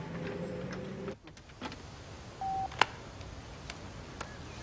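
A public payphone keypad gives a few short, separate dialing beeps: one clear tone near the middle and fainter clicks around it, quiet and close, with no talk.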